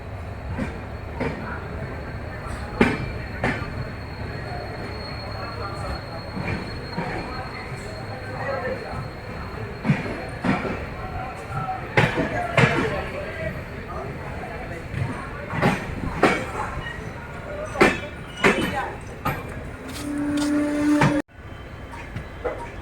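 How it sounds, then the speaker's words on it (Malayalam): Passenger train rumbling along the Western Ghats line between Sakleshpura and Mangalore, with rhythmic wheel clacks, sharp rail clicks and a brief squeal near the end, under occasional talk. "ഇപ്പോൾ ട്രെയിന് കബകത്തൂരെത്തി."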